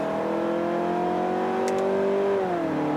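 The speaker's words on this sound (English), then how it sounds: "The engine in this car is so much louder than the Camry's." A 2017 Mazda6 GT engine revving in manual sport mode, heard from the cabin as a steady, fairly loud droning whine that holds pitch, then drops as revs fall near the end.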